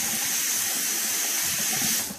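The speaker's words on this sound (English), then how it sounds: "I got the nice warm water rinse in" Warm water pours steadily from a barbershop faucet for a rinse, a loud, continuous rushing hiss close by with no talking.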